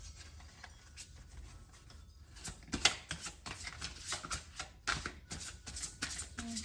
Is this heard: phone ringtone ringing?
no